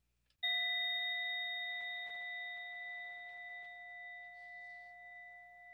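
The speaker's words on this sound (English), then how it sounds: "So I'll ring the bell." A single bell is struck once and rings out in a clear, sustained tone that slowly decays, close and alone, marking the end of a break in a meditation session.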